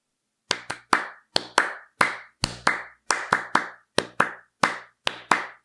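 Two performers clap hands in unison, with crisp, dry claps in a simple repeating pattern of short groups separated by brief gaps, close and clear with no other sound.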